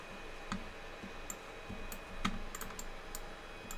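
A cat steps across a computer keyboard, giving a few scattered, uneven key clicks and taps at close range over a quiet room hum.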